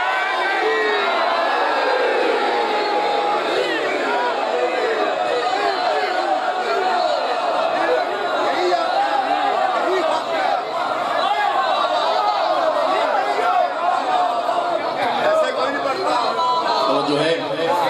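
A large crowd at a Muharram majlis roars a religious slogan together, a dense, loud, sustained mass of voices with shouts and cheers rising and holding throughout.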